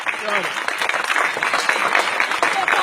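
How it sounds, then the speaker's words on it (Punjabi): Audience applause at a Punjabi speech gathering, steady clapping from a crowd throughout, with some voices mixed in under the clapping. "ਤਾਲੀ ਤਾਲੀਆਂ ਵੀ"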